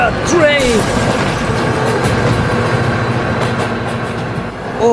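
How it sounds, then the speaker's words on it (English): A train rumbles past in an animated cartoon with a steady, dense clatter that stays loud throughout, while excited cartoon voices chirp briefly at the start. "Oh my God, train!"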